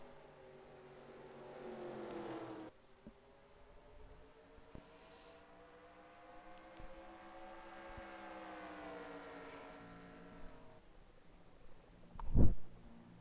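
Several stock cars in an ARCA Sportsman Series sim race at the Milwaukee Mile drone past, their engine tones rising and falling as they pass. A sharp loud burst lands near the end.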